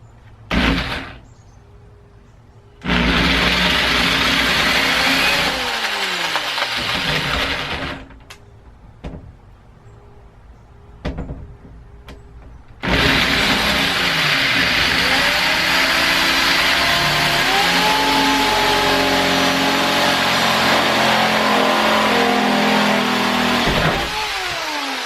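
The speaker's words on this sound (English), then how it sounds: "Drilling the first hole." A power drill drills a hole in a camper van for an exhaust fan in two long, loud bursts, its motor whine shifting in pitch as it bites, with short quieter gaps and clicks between.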